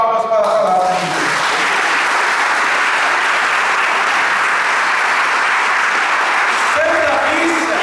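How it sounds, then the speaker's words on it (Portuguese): A congregation at Mass breaks into loud, sustained applause for the word of God, a thick, even roar of clapping with voices heard briefly at the start and end. "Uma salva de palmas para a palavra de Deus"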